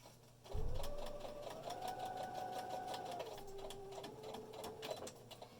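A sewing machine stitches a fabric face mask, starting with a thump and then whirring in a steady fast mechanical hum that shifts pitch partway through, sounding close but quiet with no talking.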